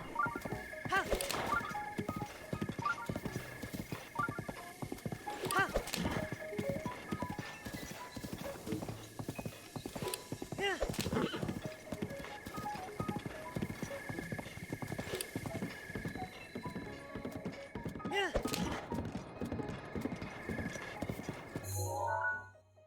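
Horse hooves clip-clop in Zelda: Breath of the Wild, a quick, steady galloping rhythm of sharp hoofbeats over a game soundscape, running continuously and cutting off abruptly at the very end.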